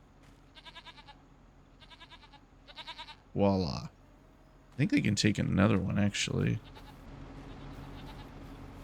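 Goats bleating in the farming video game Farming Simulator 25: a few short repeated bleats, then a loud drawn-out bleat and a noisy cluster of overlapping bleats, with someone talking quietly in between.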